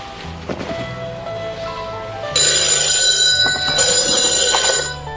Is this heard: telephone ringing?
yes